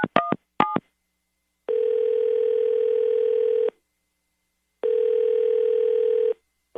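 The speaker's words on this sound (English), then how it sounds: "I'm going to dial him right now." Two short dialing tones, then a steady phone ringback tone in two long bursts separated by silence, clear and close.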